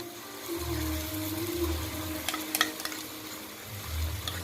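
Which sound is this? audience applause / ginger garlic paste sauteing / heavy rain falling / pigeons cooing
ginger garlic paste sauteing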